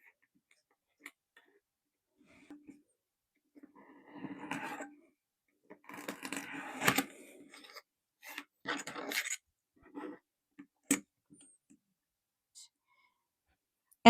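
Miniature paper signs for a dollhouse market are being cut out, giving sparse, soft snips and crisp paper clicks at irregular intervals up close in an otherwise quiet room.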